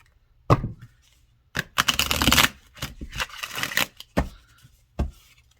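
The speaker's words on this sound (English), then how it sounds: "the shuffling part of this deck has not been satisfying" Thick, glossy oracle cards are shuffled by hand in several separate bursts of riffling and slapping, close and crisp, with short pauses between bursts and no talking.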